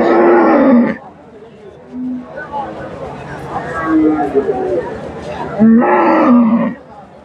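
A bull at a busy cattle market lets out a long, deep low moo between stretches of close, loud talk, with crowd murmur in the background.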